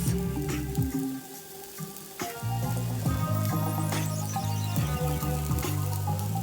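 Onions and bay leaves sauté in hot oil in a pan for an Ethiopian dish, a steady close sizzle and crackle running throughout, with a few soft clinks and stirring noises on top and background music underneath.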